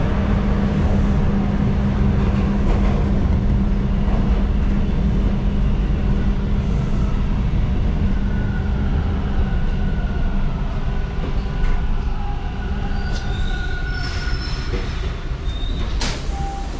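Toronto TTC subway train pulling into a station: a steady loud rumble of wheels and motors with brake squeals rising toward the end, continuous throughout with no talk.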